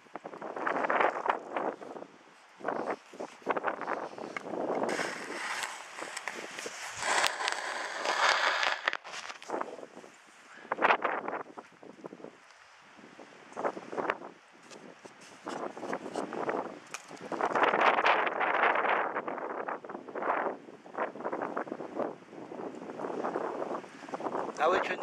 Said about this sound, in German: Heute ist kein Wind, heute ist Sturm.